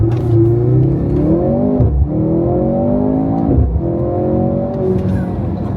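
A Mercedes-Benz C43 AMG launching hard and accelerating, its engine loud and close, revving up through rising pitch with brief dips at gear changes, no talk over it.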